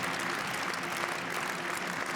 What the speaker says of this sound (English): Crowd giving him a huge round of applause.